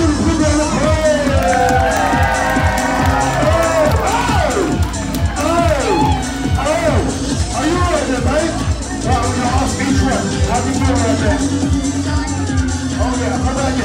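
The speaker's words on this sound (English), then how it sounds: "give him a big round of applause" Crowd at a Halloween Spooktacular event in Florida cheers and whoops loudly after a prize winner is drawn, with shouting children and continuous babble throughout.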